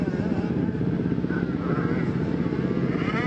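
Quad ATV engines race through a turn during a 90 open class motocross round at Ironman Raceway, a continuous buzzing engine drone heard from a moderate distance without a break.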